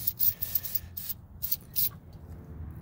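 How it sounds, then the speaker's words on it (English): Static Guard anti-static spray aimed at a car seat, a quick series of short hissing bursts in an uneven rhythm, up close, before a fainter continuous hiss. "Take it and just spray it on the seat, everywhere you're going to touch."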